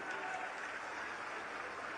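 Seated religious gathering clapping during a spiritual leader's address, a faint, steady, distant patter of many hands with no distinct voices.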